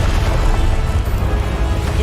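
A continuous loud, rumbling explosive roar fills the scene as the Confringo blasting spell goes off in the Hogwarts Legacy video game, dense low booming with no clear break.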